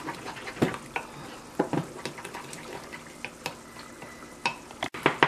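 Powdered dawadawa being stirred into a thick tomato sauce, with close, irregular wet scrapes and spoon taps against the pot at a quick, uneven pace.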